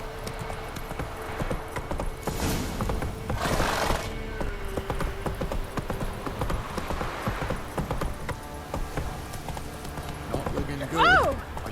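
Roach the horse gallops in The Witcher 3 with a steady, rhythmic clip-clop of hooves under ambient game sound and voices. A whinny rises near the end.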